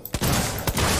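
Two sharp gunshots go off in the Alien Isolation video game, each a loud, close crack spaced about half a second apart, with a brief ringing tail after each one.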